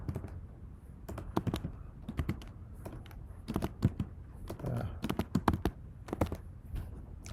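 Keys clatter in irregular bursts of quick, close taps on a computer keyboard, with short pauses between runs.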